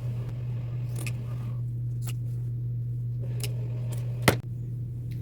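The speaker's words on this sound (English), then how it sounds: "I'm going to trim it right at that line" Scissors snipping a fabric patch along the brim of a bucket hat, four separate sharp cuts spaced about a second apart over a steady low hum.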